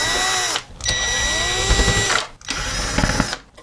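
A powered screwdriver backing screws out of the power supply inside a Magnavox DVD player, three short whirring bursts with brief pauses between them, close and fairly loud.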